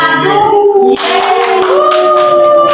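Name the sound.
class clapping for a group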